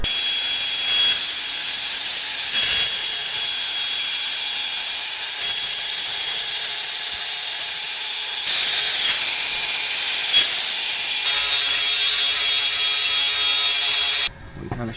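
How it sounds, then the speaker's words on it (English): A grinder works down an exhaust weld to follow the line of a flange, loud and harsh. The grinding holds steady with short rhythmic breaks, then grows rougher toward the end before stopping abruptly. "we actually need to grind this down to follow the path of the flange"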